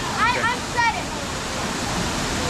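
A waterfall in Costa Rica rushes as a steady, loud roar of falling water, with a couple of short voices calling out near the start.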